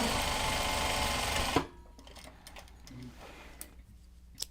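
A sewing machine stitches a seam on a Japanese fabric project bag, a loud fast continuous whir for about a second and a half that then stops, followed by quiet faint clicks and handling.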